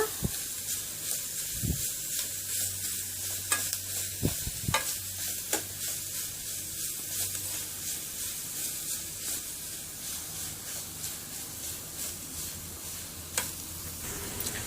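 Grated carrot and ragi flour fry in a pan with a steady soft sizzle, while a spoon stirs and scrapes in irregular strokes, with a few sharper knocks against the pan.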